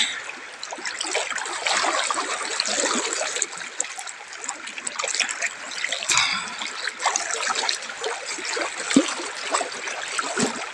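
A shallow river flows and trickles steadily close by, a continuous rushing wash of water with small splashes and no break.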